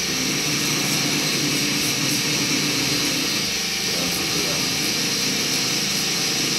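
Small grinding wheel removing fire scale from a round bar knife, a continuous loud whirring grind with a steady high whine throughout.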